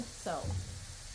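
Butter and flour roux for a white sauce sizzles softly in a pan as it is stirred, a brief scrape of the spoon over a low, quiet frying hiss.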